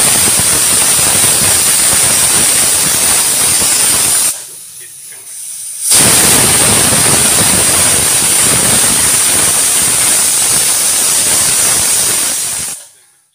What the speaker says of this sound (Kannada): ಕುಕ್ಕರ್ ಲಿಡ್ಡನ್ನು ಕ್ಲೋಸ್ ಮಾಡಿ 2 ವಿಷಲ್ ನಾವು ಈ ತರಕಾರಿನ ಬೇಯಿಸ್ಕೋಬೇಕಾಗತ್ತೆ